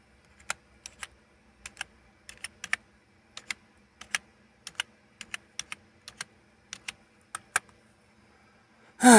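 A password typed on a computer keyboard, sparse separate key clicks in small irregular groups, close and crisp against a quiet background, ending in one louder thump.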